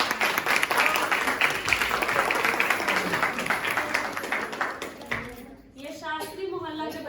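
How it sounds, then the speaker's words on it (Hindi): An audience claps loudly for children after their stage play, with dense sustained applause that gradually thins out as voices rise near the end. "बच्चों के लिए एक बार फिर से जोरदार ताली।"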